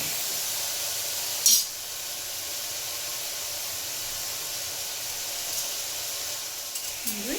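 Vegetables for methi pulao frying in a little oil, a steady, close hissing sizzle that runs throughout with a brief louder clatter early on and small crackles near the end.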